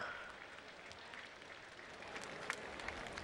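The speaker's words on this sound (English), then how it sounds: "Ladies and gentlemen, a big round of applause for Junior Prince Zach Wecker." Crowd at a county fair harness racing ceremony applauding a junior prince, distant, fairly faint clapping that continues steadily with a few sharper claps standing out.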